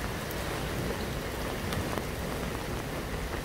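Steady rain falls on coastal rocks at Songjeong Jukdo Park, a dense, even patter with scattered sharper drops and no voices.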